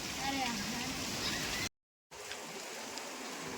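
Heavy rain pours steadily outdoors on an anniversary day, a dense continuous hiss that drops out briefly in the middle before resuming.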